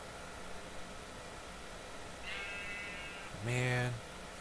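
A sheep in modded Minecraft bleats twice against a constant hissing background, first faintly and then a louder, nearer bleat.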